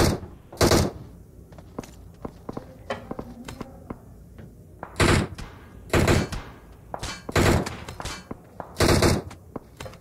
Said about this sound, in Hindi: लगातार फायरिंग हो रही है यहाँ पे